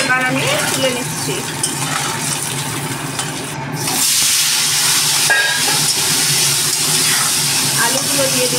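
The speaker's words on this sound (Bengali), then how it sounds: "আলুগুলো দিয়ে দিলাম, এবার এই আলুটা এবার ভাজা ভাজা করছি।" Potatoes fry in hot oil in a home kitchen, a loud steady hissing sizzle that swells after a short dropout partway through, with a voice speaking over it.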